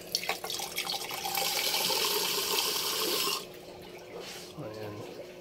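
Water runs from a tap into a glass in a steady rushing stream, fairly loud and close, then stops and gives way to quieter sounds with no speech heard.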